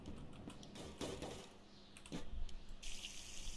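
Water from a tap pours into a container in The Long Drive video game, a soft, steady running splash with brief clicks and bursts, fairly quiet and without talk.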